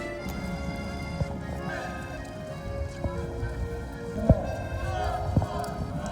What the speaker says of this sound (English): I kept on spotting horses and carriages everywhere